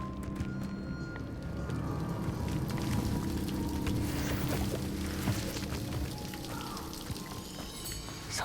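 Steady broadband rush of a waterfall in the fantasy game Hogwarts Legacy, a continuous pour of falling water holding constant throughout with faint scattered ambient details, no voices.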